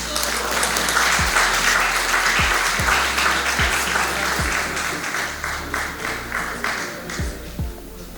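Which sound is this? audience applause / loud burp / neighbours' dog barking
audience applause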